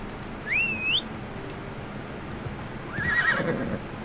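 A horse neighs twice in Assassin's Creed Odyssey, a shrill whinny near the start and a second, lower call about two seconds later, each standing alone over quiet game ambience.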